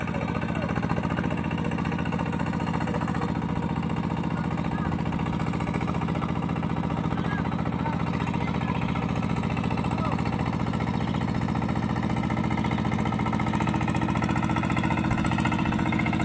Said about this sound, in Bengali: এরকম পাওয়ার টিলার দেখেছেন কিনা আপনারা জানাবেন।